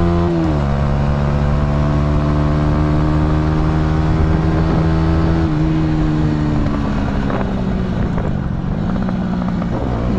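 A motorcycle engine revs hard as the throttle opens during lively city riding, a loud, close, sustained drone whose pitch sweeps and shifts throughout, with no talking.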